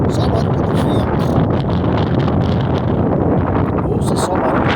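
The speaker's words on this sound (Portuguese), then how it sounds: "Ouça só o barulho do vento." Forceful outdoor wind blowing steadily, heavy low buffeting rumble on the microphone mixed with rushing hiss, loud and constant with small gusty surges.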